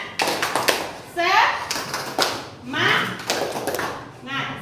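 Children in a classroom perform a rhythmic spirit clap, tepuk semangat, sharp groups of hand claps in a patterned beat alternating with chanted voices close by.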